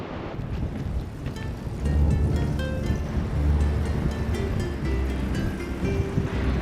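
Ocean waves wash onto a beach in North Scotland, a steady, swelling surf with heavy wind buffeting the microphone.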